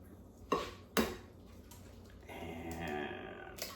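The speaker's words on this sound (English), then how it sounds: "take your eggs, crack those in there" Eggs cracked against and dropped into a mixing bowl while making meatloaf in a home kitchen: two sharp, close taps about half a second apart, followed by a soft wet pour and faint bowl handling.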